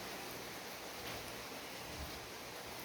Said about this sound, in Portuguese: Está chovendo, se fizer algum barulho diferente, é chuva.